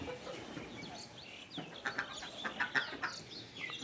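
Chickens on a village integrated farm cluck in a steady mix of short calls, moderately close, with a few louder clucks clustered toward the end over a busy outdoor background.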